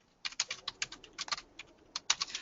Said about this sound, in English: So if I just hit RE from E on the keyboard